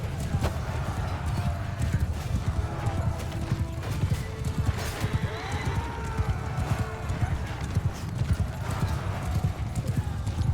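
Horses gallop through a chaotic medieval battle in Mount & Blade II Bannerlord, with a constant thick drumming of hooves, occasional whinnies, and a churning din of fighting over the whole stretch.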